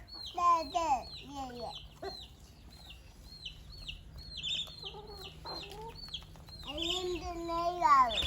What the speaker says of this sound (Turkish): Bak bak civcivlerimize bak Zeynep.